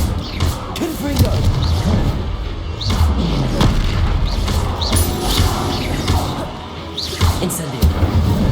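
Booming spell blasts and crashing impacts in the Hogwarts Legacy video game, the Confringo explosive curse among other combat spells, thudding repeatedly in dense succession, loud and close with continuous game-battle clatter.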